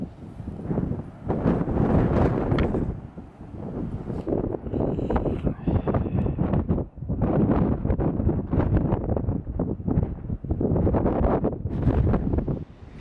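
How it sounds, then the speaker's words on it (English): Strong wind buffeting a microphone on an open grassy hilltop near Llangollen, Wales, a loud continuous roaring rush with gusty swells and brief dips throughout. "This is where the wind direction's coming from."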